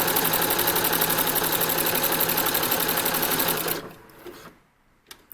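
A sewing machine stitching a fine zigzag on a skirt hums and clatters steadily and close for nearly four seconds, then stops abruptly, leaving near silence and a couple of faint clicks.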